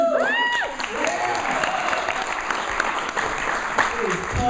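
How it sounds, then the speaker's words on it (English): Audience applause filling a room, a dense steady clatter of many hands clapping, with a voice speaking briefly over it at the start. "You should clap better than that."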